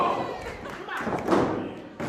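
A heavy thud as a wrestler lands a Vader bomb body slam on an opponent at a wrestling match, a single deep impact over crowd noise with a commentator talking.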